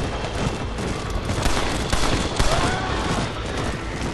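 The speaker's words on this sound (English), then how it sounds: "that machine gun had better work after all this" Sustained machine gun fire in the Western game Red Dead Redemption, a dense, loud rattle of rapid shots running unbroken through the whole stretch amid clattering battle noise.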